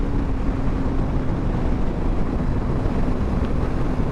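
Suzuki GSX-250R motorcycle ridden at full throttle, heard as a continuous loud roar of engine and wind rush with a faint steady tone underneath, no speech.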